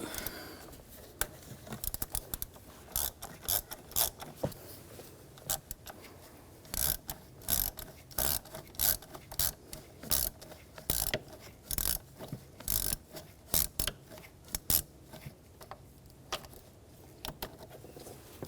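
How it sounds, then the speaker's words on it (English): A ratchet fitted with a T25 socket clicks in repeated short bursts while removing screws on a 2007–2013 BMW X5 3.0L inline-six, close up, with pauses between strokes and no talking. "We're going to use a T25 socket. Take these screws out."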